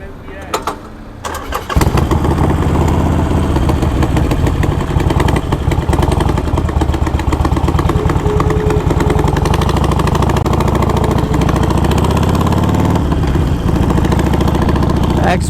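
A motorcycle engine drones steadily and loudly while riding along an expressway toward Agra, with wind rush and a continuous mid-pitched hum after a brief quieter start, a voice talking over it.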